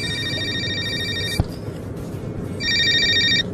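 A telephone rings with electronic trilling bursts, a short pause and then another ring, clear and close in a quiet room.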